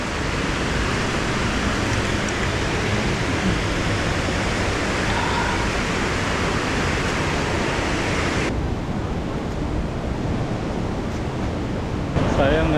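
The strong current of the Tinipak River in Tanay, Rizal rushes in a loud, continuous, broadband roar that stays steady for the whole stretch, close to the microphone.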